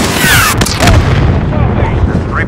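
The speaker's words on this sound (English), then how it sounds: "Alex, airstrike!" Airstrike in Call of Duty: Modern Warfare (2019) hitting enemies by concrete barriers: loud, heavy booming blasts, with shouting voices under the rumble.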